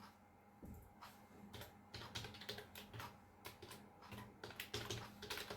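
C code is typed on a computer keyboard, a quiet, close patter of irregular key taps and clicks running steadily, with no voice heard.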